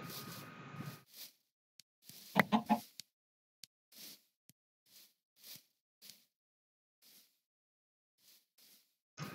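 Chickens cluck in a Minecraft game world, a short cluster of clucks in the middle followed by a few sparse, quiet clucks and blips against near silence.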